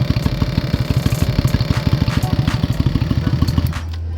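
A Honda Steed 400 motorcycle engine runs close and loud with a fast, even chugging pulse, then cuts to a low steady hum near the end.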